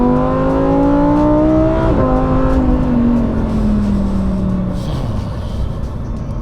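A Lamborghini STO accelerates up a small hill, its engine note climbing steadily through the revs, dropping briefly at a gear change and then rising again. The car is loud, close and continuous, with no talking.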